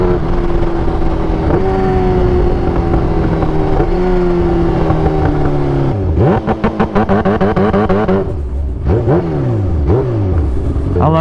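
A Kawasaki Ninja H2 motorcycle being ridden, its loud engine droning steadily and then revving up and down sharply through several quick gear changes.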